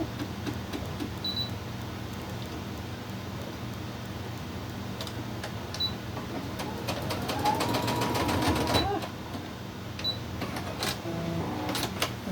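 A sewing machine stitches a crumb quilt block, with intermittent ticking and clicking, then a louder sustained whirring run of stitching near the middle before it settles into lighter mechanical clicks.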